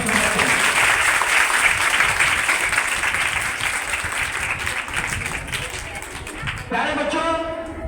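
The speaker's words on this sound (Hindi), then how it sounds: "एक बार आप लोग अपने लिए एक बार जोरदार तालियों से अपना स्वागत करें।" Loud, sustained applause from a crowd of children at a Beti Bachao Beti Padhao awareness programme in Kanpur, dense clapping that fills the whole stretch and thins slightly near the end.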